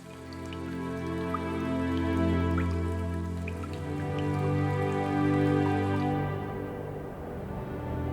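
Raindrops falling in a steady, soft patter of scattered drips over a bed of sustained tonal music, moderately quiet throughout.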